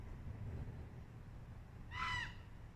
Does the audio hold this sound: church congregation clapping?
no